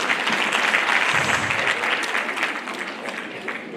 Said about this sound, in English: Let us clap for her again.